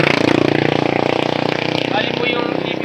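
A motorcycle engine idles close by with a steady, rapid, throbbing pulse that holds for the whole stretch. Low voices run faintly underneath.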